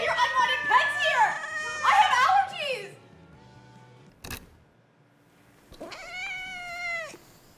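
A cat meows loudly and repeatedly in a quick run of cries, falls quiet, a short sharp click cuts in, then one longer drawn-out meow comes near the end, all close by in a quiet indoor room.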